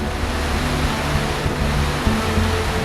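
A waterfall on a mountain hike roars as a loud, continuous broadband rush of falling water, steady throughout with no voices.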